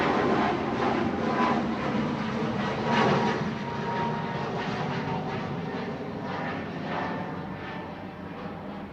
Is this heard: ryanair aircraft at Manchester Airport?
yes